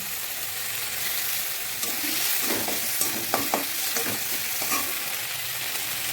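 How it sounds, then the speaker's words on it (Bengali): Chicken, tomato and masala with salt, turmeric and red chilli powder frying in a pan, a steady sizzle with scattered stirring scrapes and clinks, close and continuous, no talking. "দিয়ে দেবো হলুদ গুঁড়ো, লাল লঙ্কার গুঁড়ো দিয়ে ভালো করে মশলাটা আমি কষিয়ে নেব"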